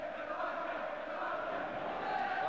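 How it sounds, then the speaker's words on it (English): Football crowd at Victoria Ground in Stoke during a 1995 match: a dense, steady roar of many voices chanting and shouting from the stands, continuous and moderately loud throughout. "the crowd here inside Victoria Ground today is generating an awful lot of noise"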